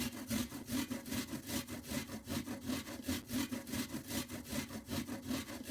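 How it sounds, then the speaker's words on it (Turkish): A medium peeled onion is rubbed against the fine side of a hand grater in quick, even rasping strokes, close and steady with no talking. "Şimdi soyduğum bir tane orta boy soğanı rendenin ince tarafıyla rendeliyorum."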